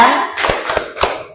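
A group performs the tepuk semangat clapping game during an ice-breaking session in a teacher training class: a few sharp, unified hand claps in a quick rhythm, close and loud, following a short voiced cue.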